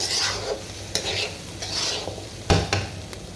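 Khichuri of rice and lentils being fried and stirred in a pot, with a steady close sizzle and repeated scraping strokes of a spoon against the pan, a few sharper clinks standing out.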